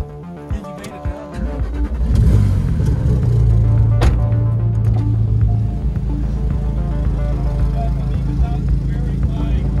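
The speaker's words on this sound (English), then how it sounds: "we're just going for the morning orientation on the track in Mike's Porsche" A Porsche on a race track at Roebling Road, Savannah, Georgia, its engine note rising and settling as it pulls away, heard from inside with a loud, steady drone; people talk briefly near the start.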